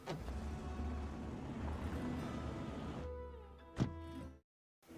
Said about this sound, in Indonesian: Mobil itu membawa Ali dan keluarganya pergi meninggalkan gurun